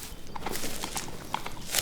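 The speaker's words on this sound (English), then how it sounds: "a man came in sight, trotting along gaily on a capital horse" A horse's hooves clip-clop in an uneven trotting rhythm on a hard surface, close and moderately loud, with no voices.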